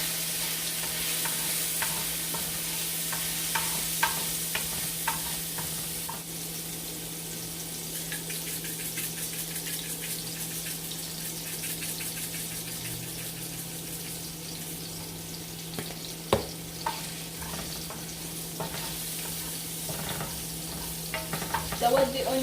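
Onion sizzling and frying in a pan on a home stove, with a continuous hiss and scattered scrapes and clicks of stirring, close and steady throughout.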